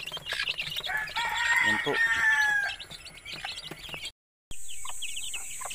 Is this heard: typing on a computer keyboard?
no